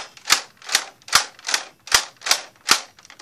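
A Nerf Hailfire blaster's handle is worked to advance the magazine, giving seven sharp plastic clacks at a steady, even rhythm, close and clear with no talking.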